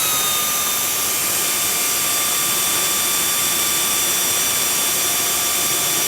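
A steady, high-pitched whine of a power drill drilling holes in metal for a floor pan runs continuously at close range, with a constant droning hum and no voices.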